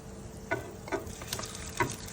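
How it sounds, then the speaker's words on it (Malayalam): Pork pieces drop into fried chilli masala in a pan for a Thrissur-style pork roast, giving a steady sizzle with a few soft stirring clunks spaced out across the clip. "അപ്പൊ നമുക്ക് ഇനി നമ്മുടെ പോർക്കാലി ഇട്ട് കൊടുക്കാം"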